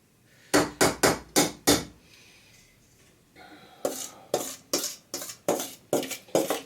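A small scraper scrapes wax out of waxed oil cloth in a rapid run of about six sharp, close strokes, then a brief pause before another series of rhythmic scrapes.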